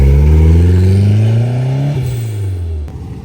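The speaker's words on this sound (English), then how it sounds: "There goes Mark, and the rest of the Fords are leaving." A Ford car pulls away from a car park, its engine loud and close as it revs up through the gears, then fades as it drives off, with no voices.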